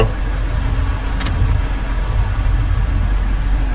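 A car engine runs at a steady idle, with a close, continuous low rumble and no voices over it.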